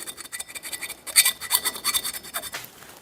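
Steel file rasping a bevel along the inside of a double bit axe eye, a steady run of gritty back-and-forth strokes, close and moderately loud with no talking.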